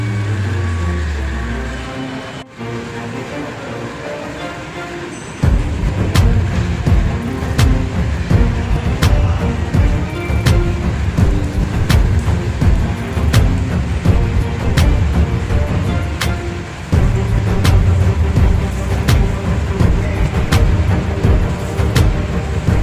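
Inside a ship's car deck, a loud truck engine rumbles steadily as the Fuso truck reverses aboard a ferry from Sulawesi to Kalimantan, with sharp clanks and knocks recurring throughout and the engine note surging after a brief lull.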